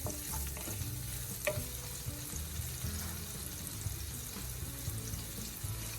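Onions and garlic sautéing in a pan for Filipino pancit sotanghon glass noodles, with a steady, moderately loud sizzle and scattered stirring scrapes running throughout, no voices.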